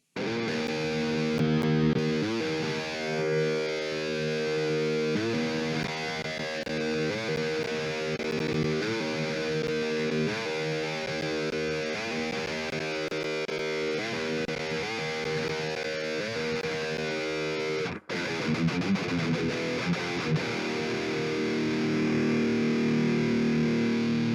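Heavily distorted metal electric guitar through an ENGL cabinet impulse response paired with a 57 microphone chugs and rings out in a dense, continuous riff, with a brief cut near the end before playing resumes.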